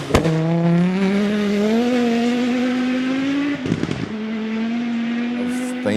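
Audi Quattro tribute rally car idling loudly with turbo anti-lag, a steady close engine drone broken by a sharp crackling burst of pops near the middle, then settling back to a high idle.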